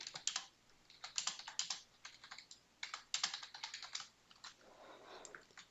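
Typing on a computer keyboard while coding a Python lesson, quiet, close clusters of quick key clicks in bursts with short pauses between, no voice over them.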